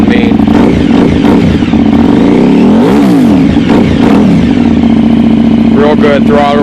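A KTM 950 SM supermoto motorcycle engine revs up and down several times up close, loud surging roars rising and falling over a constant engine rumble.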